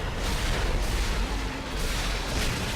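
Force gun from Dead Space 2 firing in a hardcore-mode fight: heavy, booming concussive blasts with a deep rumble, loud and sustained, swelling in a couple of surges.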